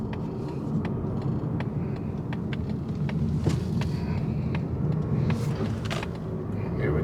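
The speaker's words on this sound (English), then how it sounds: "let's check out the acceleration here" 2025 Mazda 3 accelerating on the road, a steady engine and road roar heard from inside the cabin, holding even and moderately loud throughout.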